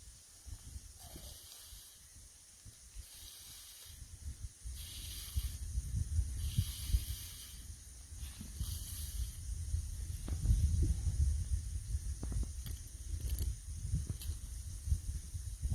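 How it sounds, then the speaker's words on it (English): A plastic sample bottle sweeps repeatedly through a snow pack to gather snow, giving soft, hissing scrapes that come in uneven strokes, some close and fairly loud, against a quiet outdoor background. "I'm just going to take a series of sweeps off the snow, each time taking a different line."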